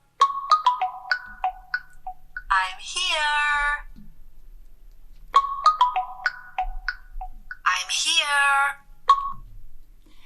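An Honor Band 5 find-phone alert sets a phone ringing with a chirpy electronic melody that plays twice in the same pattern, clear and close, with short gaps.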